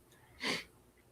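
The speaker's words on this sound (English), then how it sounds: "I sneezed on your show." A single short sneeze bursts out once mid-clip, close and fairly loud, in an otherwise quiet indoor setting.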